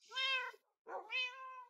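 A Minecraft cat gives two clear meows, the first longer and higher, then a short pause before the second, close and fairly quiet with no other sound.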